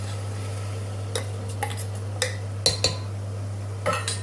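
Soaked rice tipped into a pan of fried fenugreek for Sindhi methi rice, heard as a few sparse clinks and scrapes of utensil against pan over a steady low hum, with no talking.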